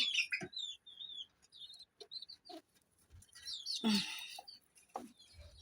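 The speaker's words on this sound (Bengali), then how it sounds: "কবুতরের ছানাগুলা কবুতরটি কত বড় বড় হয়েছে" Pigeon chicks give thin, high chirping calls in scattered short bursts, close and fairly faint, with soft clucks and rustling between them.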